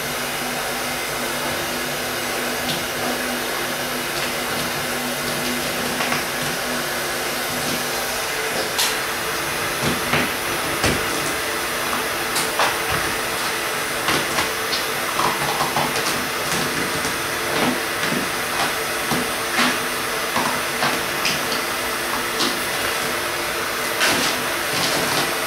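A heat gun blows a steady, loud rush of hot air to strip old 3M film, a constant whooshing hiss with faint scattered clicks and crackles over the whole stretch.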